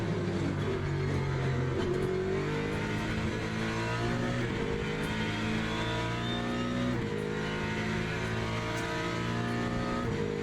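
GT3 race cars roar in the sim racing game Le Mans Ultimate, with a continuous loud engine drone whose pitch climbs and drops through gear changes, close and steady throughout, with no talking.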